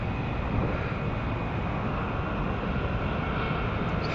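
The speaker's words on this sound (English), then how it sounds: "airplane right above me" A low-flying airplane passes close overhead, a steady, loud broadband engine roar that fills the whole stretch without fading.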